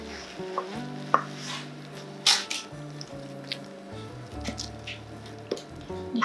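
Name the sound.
wet stout bread mix poured into baking tin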